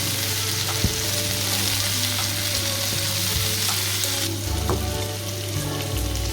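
Onion frying in a hot pan while carrot leaves cook, with a loud, constant sizzle and crackle close by, broken by a few sharp clicks and clinks of a utensil against the pan.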